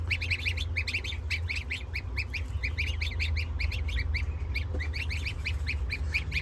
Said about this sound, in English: are both American buff geese